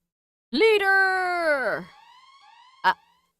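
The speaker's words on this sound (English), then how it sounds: "That's a siren." A single siren wails in the Fate/Grand Order video game, a loud harmonic tone that holds for over a second and then bends downward and fades, followed by one short sharp blip.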